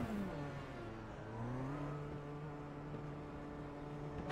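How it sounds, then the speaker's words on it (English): An IndyCar race car at Belle Isle, damaged after hitting the wall, drives on toward pit road, its engine a steady tonal whine that slides in pitch as it moves, heard alone and fairly faint. "You can see bringing that car on towards pit road."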